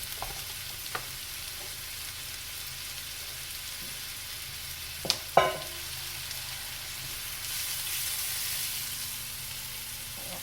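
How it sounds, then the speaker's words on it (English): Garlic frying in a home kitchen pan gives a steady, soft sizzle that runs throughout, broken by a couple of sharp utensil clicks near the middle. "Put my garlic in here and let it get a little bit brown."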